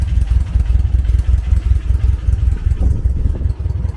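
A Volkswagen Beetle engine runs steadily at a low idle, its deep rumble and light clatter continuing close and loud throughout.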